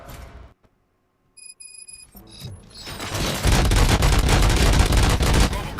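Gunshots in RoboCop: Rogue City build into a dense, loud barrage of rapid fire and booms after a short electronic beeping passage and a brief silence.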